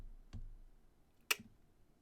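Calculator keys pressed twice, two sharp isolated clicks about a second apart in a quiet room, with no talking.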